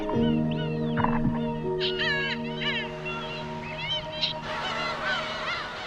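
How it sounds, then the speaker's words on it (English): Adult black-tailed gull calling at its nest in a Chinese breeding colony after returning with food: a series of harsh, rising-and-falling calls, close and fairly loud, repeated over a steady droning background. "This adult black-tailed gull has returned to her nest with food"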